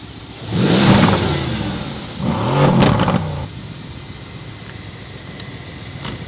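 A 2017 car with a 500-horsepower engine starts with a loud burst of revving that drops back, then revs again before settling into a quieter, steady idle, close by.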